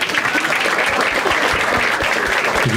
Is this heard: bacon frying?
no